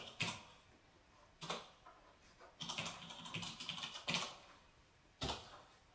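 Keys clack on a MEGA65 computer keyboard in several short bursts, with quick runs of keystrokes separated by brief pauses, close and fairly quiet with no voices.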